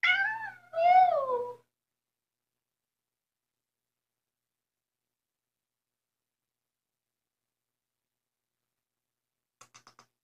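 Kittens give two clear, close meows, a short one followed by a longer drawn-out one, then near silence with a few faint clicks at the end.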